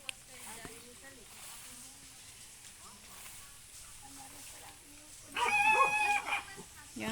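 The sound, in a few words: fighting cock roosters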